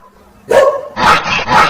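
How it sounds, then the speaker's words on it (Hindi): A cartoon dog gives three loud, close, sharp barks after a brief quiet lead-in, each bark a short burst with slight whimpering edges. "ये तो सचमुच कुत्ता है"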